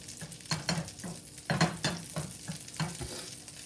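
Butter in a pan, with a spoon stirring through it in uneven bursts and scrapes over a soft, steady sizzle. It sits close, with no talk.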